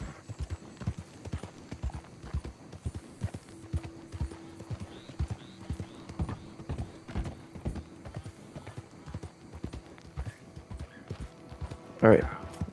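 Horse hooves clip-clopping in Red Dead Redemption 2, a steady rapid rhythm of hoofbeats from a ridden horse that runs through the whole clip, with a brief whinny near the end.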